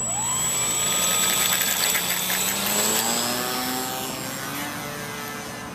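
An electric Parkzone Spitfire MKIX RC model plane takes off from pavement, its motor whine rising and shifting in pitch as it speeds past, moderately loud and then slowly fading.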